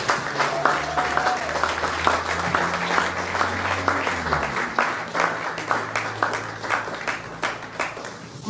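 An audience at a community gathering applauds a speaker with sustained, dense clapping that stays loud throughout, with a faint voice underneath.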